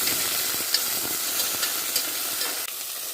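Small onions, green chili and curry leaves sauté in a pan for carrot poriyal, giving a steady, close, continuous sizzle with faint stirring scrapes and no voices.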